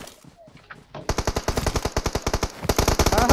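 Rapid automatic gunfire in PUBG Mobile erupts after a quieter opening second, then rattles in fast, evenly spaced shots that grow louder and keep going to the end.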